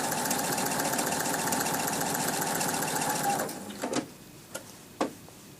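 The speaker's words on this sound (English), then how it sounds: "So I'm stitching to the next pin, keeping my seam allowance at 1/4 inch, removing pins as I go, matching the notches." A sewing machine stitches quilt pieces for a Double Wedding Ring block with a quarter-inch seam, a steady close whirring hum that stops after a few seconds, followed by a few soft clicks and handling taps.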